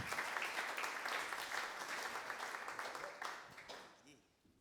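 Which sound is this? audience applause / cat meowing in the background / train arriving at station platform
audience applause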